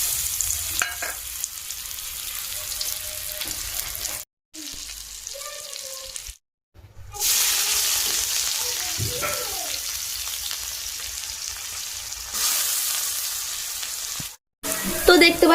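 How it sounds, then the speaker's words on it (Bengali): Pointed gourd coated in salt and turmeric hisses steadily as it fries in hot oil in a village kitchen, loud and close, broken by a few short silent gaps and some faint background sounds. "তেলটা গরম হয়ে গেছে, আর এদিকে লবণ হলুদ দেওয়া পটলগুলো তেলে দিয়ে দেবো।"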